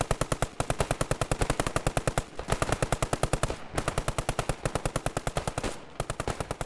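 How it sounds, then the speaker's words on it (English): Sustained machine gun fire in a military realism shooter game, rapid evenly spaced shots in long bursts with two brief pauses, loud and close throughout. "There's a machine gun at that."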